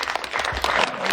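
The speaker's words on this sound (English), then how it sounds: "a round of applause." Audience applause at a Riverside Park ceremony, a brief burst of steady clapping from a gathered crowd at moderate distance.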